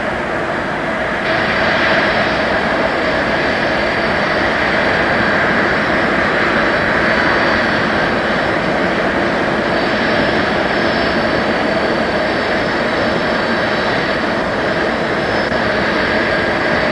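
A 1969 Boeing 747 jet at about 467,500 pounds gross weight rolls for takeoff, its engines producing a loud, continuous, steady roar that fills the whole stretch with no voices.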